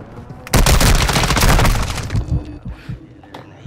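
Gunfire in the video game Call of Duty: Modern Warfare II: a loud, close burst of rapid automatic shots lasting over a second, trailing into scattered fainter pops and rumbles.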